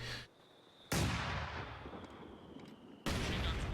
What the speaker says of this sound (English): that's Kollega bringing in the incendiary artillery